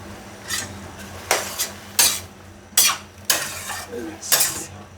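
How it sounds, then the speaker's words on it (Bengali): A utensil scrapes and clacks in a pan while a spice mixture is stirred during cooking, about six sharp metallic strokes spread unevenly over a faint steady background, with no talking. "মশলাটা একটু মিশিয়ে দিই"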